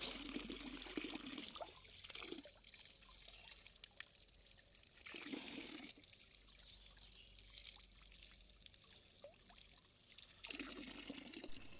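Water pours from a pipe tap during foot washing, with bursts of splashing trickle that stop and resume several times at close range.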